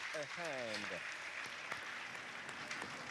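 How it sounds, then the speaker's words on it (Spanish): Audience applause for the delegates of Zimbabwe East at the 2022 General Conference Session in St. Louis. It is a steady crowd clapping throughout, with a voice speaking briefly at the start. "Y queremos aplaudirle a cada uno de ellos."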